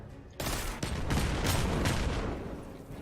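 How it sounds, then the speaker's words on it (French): Rapid three-round bursts from a pulse rifle in the Destiny 2 video game, dense overlapping gunfire cracks that start abruptly and continue in quick succession, loud and close. "le fusil à impulsion tire 3 balles par 3 balles"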